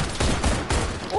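Rapid gunfire rattles in a video game, dense bursts of shots layered together at close range over about a second.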